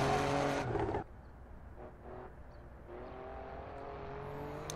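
A car engine in the racing game Assetto Corsa, from Bonus Pack 3, roars loudly for a second, then drops to a steadier, quieter drone with rising, revving tones.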